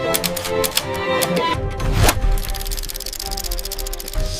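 A typewriter clatters with rapid, dense keystrokes, sounding loud and close. The rhythm is busy and mechanical, and it shifts into a quicker, lighter run of clicks partway through.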